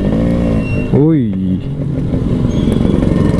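Yamaha RX135 motorcycle with an altered engine, its exhaust revving loudly up close in a sharp rising and falling blip midway, then settling into a rough, popping idle; a voice briefly calls out during the rev.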